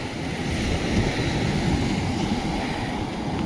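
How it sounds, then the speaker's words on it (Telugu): Fast sea waves rush and break at Pakala beach, a loud, continuous roar of surf and churning foam heard close by with wind buffeting the microphone and no talking. "అసలు అలలు చూడండి ఎంత ఫాస్ట్ మీద వస్తున్నాయో"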